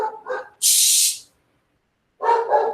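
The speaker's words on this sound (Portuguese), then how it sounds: "Os cachorros estão..." A few short dog barks sound at the start and end, separated by a hissing burst and a silent gap, with no talk.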